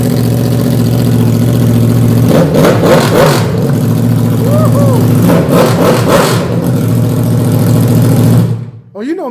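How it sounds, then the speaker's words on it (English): A Yamaha R1M motorcycle with a straight header exhaust idles loudly and roughly, rising in two sharp blips of revving before the engine cuts off near the end. "see what our Yamaha R1M sounds like with just a straight header system"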